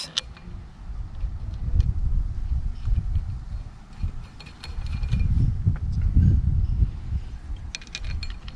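Bolts being tightened on a console steering wheel mount, with irregular ratcheting clicks and mechanical rattling coming in short bursts, close and moderately loud.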